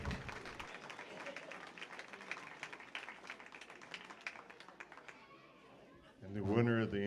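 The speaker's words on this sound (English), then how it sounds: "Give them a big round of applause." Audience applause at a county junior livestock show, a moderate spread of clapping in a large space that thins out toward the end, followed by a voice over a loudspeaker.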